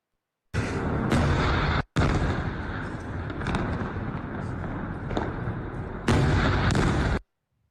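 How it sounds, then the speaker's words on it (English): Ballistic missile strikes on Erbil in northern Iraq make loud, sustained roaring blasts and rumbling explosions, cut by an abrupt break and a second heavy burst near the end, with no clear talk over them. "So this is Iran firing ballistic missiles at Erbil in northern Iraq."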